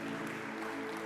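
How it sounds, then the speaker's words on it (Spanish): Applause from a church congregation, a brief dense patter of many hands clapping steadily at moderate level with no break. "Denle un aplauso"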